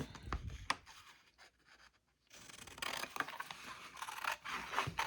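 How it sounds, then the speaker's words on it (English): Scissors snip through sublimation-printed t-shirt fabric in a series of quiet, close, papery cuts and scrapes with a brief pause partway through. "So I'm going to go ahead and just cut that off here."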